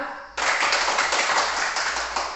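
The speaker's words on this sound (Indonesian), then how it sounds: "Kita tepuk tangan dulu untuk kelompok 2." A classroom of students claps together for a presenting group, a dense, steady burst of applause starting abruptly and continuing loudly without pause.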